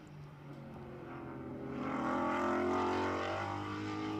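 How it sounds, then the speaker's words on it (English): A GT4 race car at Portland pulls out of turn seven on a rising throttle, its engine drone climbing and swelling louder at a moderate distance, with no voices over it. "he picks that throttle up down there at 7, and it sounds great"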